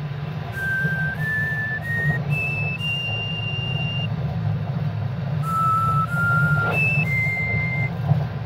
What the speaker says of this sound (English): That's actually some really freaking impressive whistling.